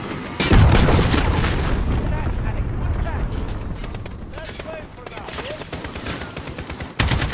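Heavy gunfire booms and rattles through a Call of Duty: Modern Warfare campaign battle aimed at a sniper in a tower. The dense, loud shooting continues with mechanical clatter, and a sharp shot lands near the end.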